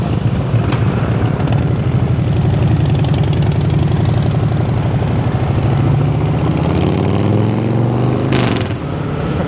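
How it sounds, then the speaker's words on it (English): A motorbike engine idles with a deep, loud, lumpy throb in Bangkok traffic, then the revs climb as the bike pulls off, the pitch rising near the end before easing. "I can't wait to hear this thing pull off."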